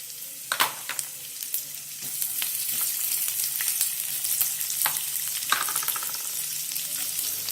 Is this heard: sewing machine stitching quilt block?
no